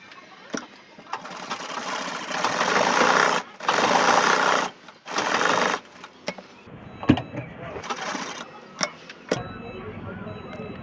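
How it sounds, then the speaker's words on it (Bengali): An electric sewing machine stitches the side seams of a churidar top in three whirring bursts of a second or so each, followed by scattered clicks and handling knocks. "এখন সিলাবো সাইডগুলো।"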